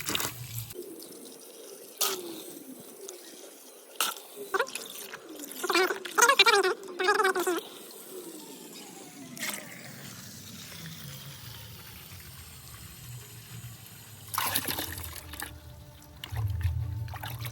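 Water is poured and trickled into a plant fertilizer mix in short, close splashing bursts, with quieter dripping between them.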